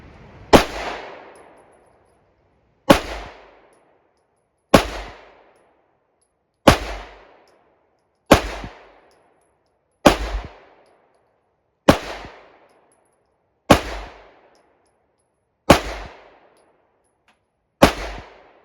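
An SD9 2.0 pistol fires ten loud, sharp shots at an outdoor shooting range, spaced evenly about two seconds apart, each crack ringing briefly before the next, with no talking.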